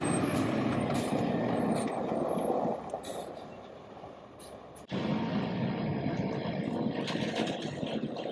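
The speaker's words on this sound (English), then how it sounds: "Going to back the truck across this little trench so we can reach that in" A truck backs slowly across a small trench at a house build site, its engine a steady loud rumble with brief hiss-like bursts, easing off midway before surging back up, no voices.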